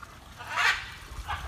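Macaw at a zoo giving a loud squawk near the middle, then a fainter second call about half a second later, with low rumbling background and no talk.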